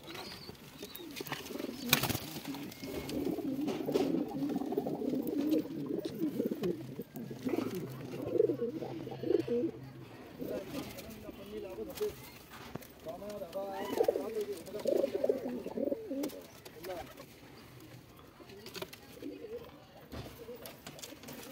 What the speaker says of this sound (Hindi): ये मोहम्मदाबाद शास्त्री नगर के कबूतर हैं